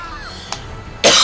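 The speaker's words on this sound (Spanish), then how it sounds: "me da un ataque de tos" A single short cough burst from a person playing the horror game Afterfall Insanity, loud and close near the end, preceded by a fainter brief cough-like puff.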